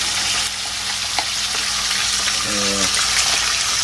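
Water spinach (kangkong) frying in hot oil, with a loud steady sizzle and crackling splatter that runs throughout, plus brief clatters of stirring.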